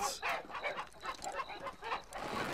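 Cartoon chickens cluck in a quick, rhythmic series of squawky bursts, close and fairly loud, with no talking over them.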